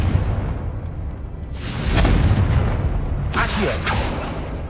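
A Confringo explosive spell from Hogwarts Legacy bursts in two whooshing blasts with crackling booms, set against a steady rumbling game background.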